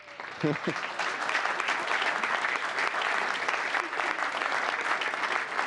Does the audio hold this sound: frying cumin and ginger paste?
no